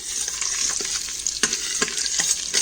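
Potatoes and green chillies sizzle and fry in hot ghee, with a spoon scraping through the pan in a few distinct stirring strokes over a steady, close, continuous crackle.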